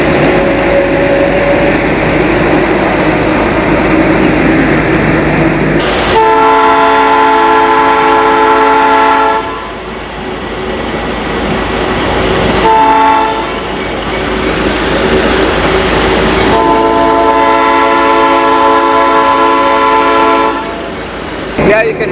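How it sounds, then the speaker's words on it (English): A train rolls over rail track on Vancouver Island with a loud continuous rumble, interrupted by long sustained horn blasts, and the running noise eases and quietens in places; voices are heard faintly. "you can hear the difference when we go over that new track"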